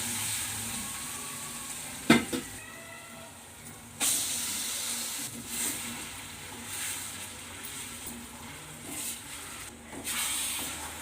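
Tamarind chutney with ripe red chilies sizzles and hisses steadily in a pan as it is stirred, with a couple of sharp scraping knocks from the spoon standing out above the frying noise.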